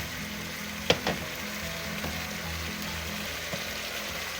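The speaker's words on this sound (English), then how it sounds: "we're gonna add our fish sauce, key ingredient in making sinigang" Fish sauce poured into a pot of simmering pork neck bone sinigang gives a soft, continuous bubbling sizzle, with a couple of faint clinks near the start.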